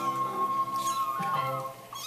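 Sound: cat meowing

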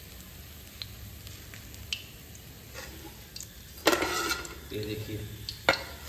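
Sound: Desi mangur fish frying in a pan

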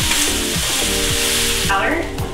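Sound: onions, apple and garlic sizzling while stirred

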